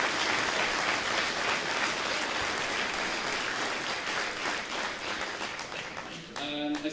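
Crowd applause after a Galway intermediate Gaelic football final, sustained clapping with some cheering that continues steadily and fades slightly toward the end, where a voice begins to speak.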